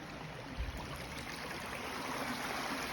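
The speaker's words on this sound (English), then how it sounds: "Now it's just free-flowing water." Clear, free-flowing water runs along a trail stream near Hurricane, Utah, a soft continuous trickling rush at low level with no talking over it.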